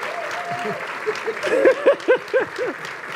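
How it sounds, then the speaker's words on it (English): An audience at a Black August speaker series event applauds for Dorsey Nunn, steady clapping with loud whoops and cheering voices rising over it toward the middle. "Dorsey Nunn, everybody, clap your hands for Dorsey"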